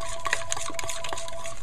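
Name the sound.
mixing chocolate brownie batter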